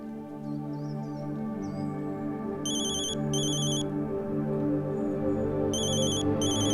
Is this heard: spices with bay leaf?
no